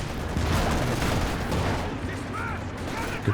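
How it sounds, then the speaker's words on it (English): Machine gun bursts from a Company of Heroes 2 match, Vet 3 LMG conscripts firing on a Panther, with dense overlapping gunfire and explosions filling a busy battlefield mix, no voices. "these Vet 3 LMG cons gonna short work of this Volkswagen"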